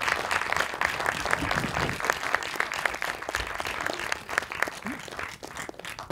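Sustained audience applause welcoming director Margarethe von Trotta on stage at a Zurich Film Festival Masters event, dense steady clapping from a large indoor crowd lasting throughout, easing slightly toward the end.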